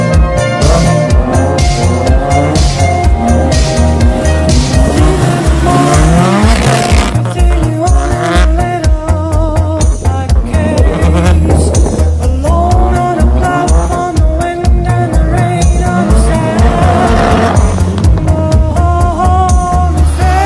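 A Nissan S14 race car roars loud and close around a race track. The engine revs high and steadily the whole time, with repeated gear shifts and tire squeal.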